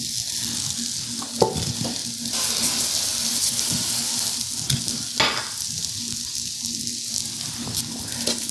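Smashed baby potatoes fry and brown in a hot pan with a steady loud sizzle, broken by occasional sharp pops and scraping clicks as they are moved around.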